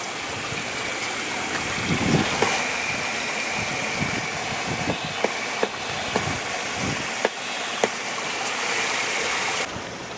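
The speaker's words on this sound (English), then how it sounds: "let the water run for a minute until it gets hot and then start up the mower" A lawn mower engine hums steadily over rushing water from a deck wash hose hookup, a continuous broadband wash of sound with a few sharp clicks and knocks scattered through it, outdoors ahead of a thunderstorm.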